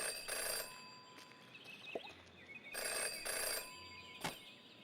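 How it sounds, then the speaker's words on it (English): A ringing payphone in the Jenny LeClue video game, with two long bursts of bright electronic bell ringing and a short third ring at the end, heard alone over a quiet game ambience. "never to ignore a ringing phone"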